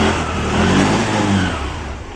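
Modified TVS Jupiter BS6 scooter engine revving up and easing off in one steady, close, mid-pitched rise and fall with no talk over it.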